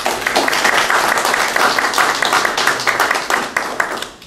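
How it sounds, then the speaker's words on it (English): Attendees at a board meeting give a round of applause, dense close clapping from a small group that holds steady and then tapers off at the end. "I think we should give him a round of applause."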